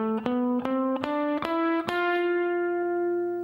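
Electric guitar in a rock style, playing an ascending F Lydian mode scale, one picked note after another at a steady pace, each ringing and sustaining, with the last note left to decay; clear and alone.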